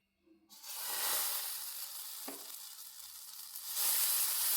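Wheat appam batter poured into a hot pan bursts into a loud, steady sizzle that fills the scene after a quiet start, with a brief scrape partway through and the frying intensifying toward the end.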